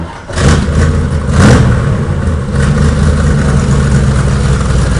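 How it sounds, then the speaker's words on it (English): A car engine revs up loudly, then settles into a deep, rumbling idle from the exhaust, close and steady. "I think they like the exhaust on that car."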